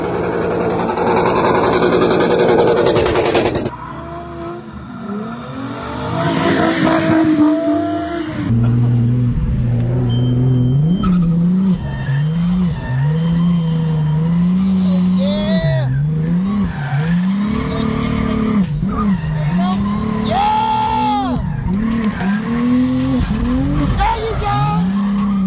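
Rear-wheel-drive Audi drift car at a drift track revving hard with long tire squeals, loud and close, pitch sweeping up and down as it slides, with voices talking in the background.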